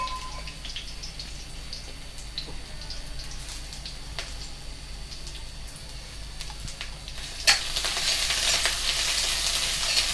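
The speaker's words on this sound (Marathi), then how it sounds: "आता आपण त्याच्यात टाकूया लसूण अद्रकची पेस्ट" Garlic ginger paste goes into hot oil with curry leaves in a pan, giving a low steady sizzle with occasional light stirring taps, then a sudden louder, brighter hiss of frying near the end.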